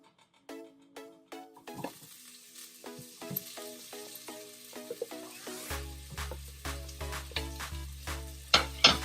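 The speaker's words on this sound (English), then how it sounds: "I've just added some oil and I'm gonna add onions." Onions drop into hot oil for chicken dum biryani and sizzle loudly, a rising hiss with crackling bursts under background music.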